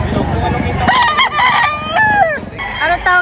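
A gamecock rooster at a poultry market in Padre Garcia, Batangas, crows loudly and close by in a long drawn-out call, with market noise and some voices around it.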